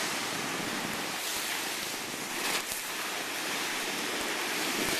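Ocean waves at high tide breaking against a lava entry where lava meets the sea, a dense continuous roar of surf and hissing water that holds steady and close, with no voices.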